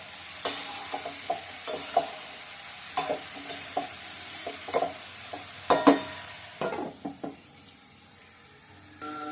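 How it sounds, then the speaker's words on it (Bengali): Potatoes and vegetable stems fry in a pan at home, with a low sizzle under repeated sharp scrapes and clinks of a spatula stirring at irregular intervals. "এবার দেখুন রাত্রেতে যখন ডাটা আলু যখন ভাজা ভাজা হয়ে গেছে"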